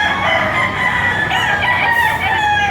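A rooster crows loud and close in Padre Garcia, Batangas, one drawn-out call filling the moment on a rainy day.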